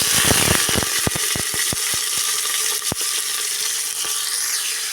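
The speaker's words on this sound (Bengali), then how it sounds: "এবার দিয়ে দেবো কেটে রাখা পেঁয়াজ কুচি" Chopped onions hit hot oil with a small dried chilli for a Bengali drumstick and potato curry, giving a loud steady sizzle broken by sharp spatula clacks against the pan.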